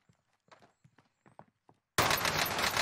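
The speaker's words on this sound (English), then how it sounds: "Hearing the footsteps." Quick character footsteps in the video game Warzone, a run of soft irregular steps that is suddenly cut off by a burst of loud gunfire.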